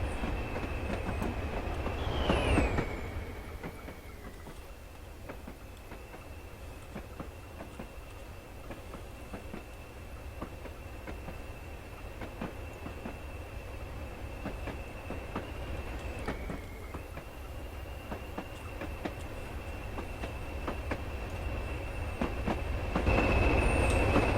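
A heavy Class 20 diesel-hauled train rolls along the Weardale and Teesdale line in Train Simulator, a steady rumbling drone with thin wheel squeals and light rhythmic clicks running throughout, loud and continuous with no voices.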